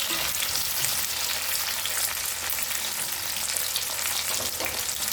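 Potatoes and three small tomatoes fry in a pan for a Bengali cabbage ghonto, giving a steady, close, bright sizzle with faint crackles and occasional stirring, and no voices.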